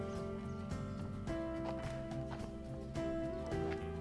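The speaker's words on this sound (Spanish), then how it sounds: "Miren ese caballo." A horse on the road climbing to Fuerte Resolí in San Cristóbal, Dominican Republic, clip-clops over steady background music, the hoofbeats soft and partly buried in the mix.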